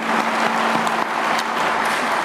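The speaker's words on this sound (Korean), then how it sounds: "우리 박수나 한번 보내주시면 더 열심히 일하실 것 같습니다." Applause from an audience at a Korean civic ceremony, a dense steady wash of clapping held at an even level for a couple of seconds, with no voices clearly standing out.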